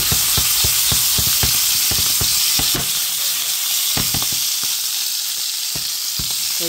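Pampanga longganisa sausage fries in a pan, a loud close sizzle punctuated by rapid popping spatters and light rattles of the pan, with no talking.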